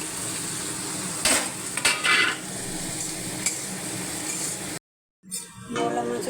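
Neola fish goes into a pan of spice paste already fried down with ground spices and a little water, bringing a close, steady sizzle with sharp clinks and scrapes of a utensil, a brief gap, then the frying resumes.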